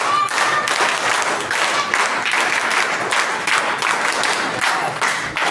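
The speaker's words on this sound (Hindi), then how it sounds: "इस बच्चे के लिए पंसील ताली बजाएंगे, है ना? पंसील ताली शुरू कर।" An audience at a Republic Day gathering claps rhythmically for a child, a loud crowd of hands beating in a rough shared pulse that holds steady throughout.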